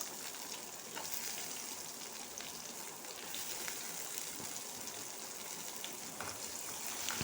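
Onion and green chilli sauté in an oiled pan, giving a steady, close, moderately loud sizzle with occasional soft scrapes of stirring and faint crackles, no voices.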